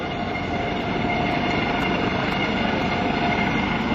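An HH-65C Dauphin rescue helicopter flies at the 2007 Wheels and Wings Airshow, positioning for a rescue swimmer drop. Its loud, steady turbine and rotor roar fills the air without a break.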